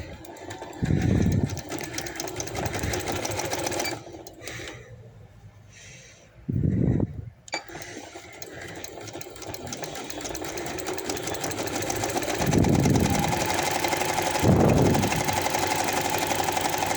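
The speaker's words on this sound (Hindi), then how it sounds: "इसी तरह आगे तक सिलाई को ले जाऊंगी और फिर दूसरी साइड का शोल्डर अटैच कर दूंगी साथ।" A sewing machine stitches the shoulder seam of a coat, a steady mechanical whir running close throughout with a brief pause partway, and several short bursts of louder low rumble on top.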